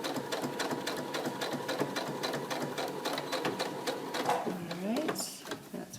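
A sewing machine runs in a fast, steady rattling stitch over the pleats of a fabric face mask, close and continuous, slowing toward the end as a voice speaks quietly over it.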